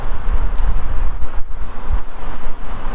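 Steady, loud wind buffets the microphone outdoors on a cool, cloudy day near a store parking lot, a continuous low rumble with gusty swells, no talk.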